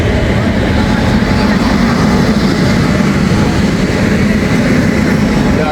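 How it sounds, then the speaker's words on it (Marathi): A train pulls into a Mumbai railway platform with a loud, steady, broad rumble that fills the whole stretch, while voices are faintly heard under it. "फायनली आता ट्रेन आली आहे."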